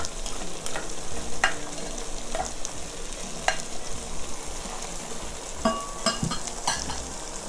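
Carrots tumble into a pan of frying chicken bopis flavored with annatto oil, sizzling steadily with stirring scrapes and a few sharp utensil clinks against the pan, all without talk.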